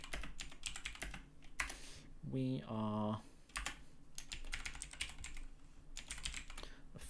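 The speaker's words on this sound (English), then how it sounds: "I'm sorry for the keyboard" Computer keyboard typing up close, quick bursts of key clicks in uneven runs, interrupted briefly by a short spoken phrase, then clicking resumes.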